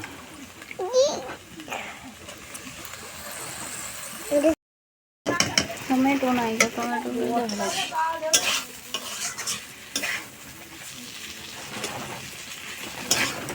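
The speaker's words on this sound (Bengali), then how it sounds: "এখন বাঁধাকপিটা ভেজে তারপরে ওই হাঁড়িতে দিয়ে দেবো" Cabbage stir-fried in a pan while cooking khichuri outdoors in a village gives a continuous sizzle with frequent scraping stirs and utensil clatter, and a voice talks over much of it.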